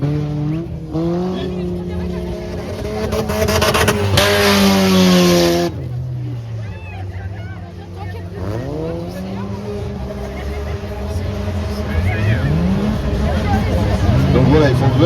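Stock cars racing on a wood-chip track at Bertrix, engines revving and swelling past with tire noise, loud and continuous under commentators talking over the action.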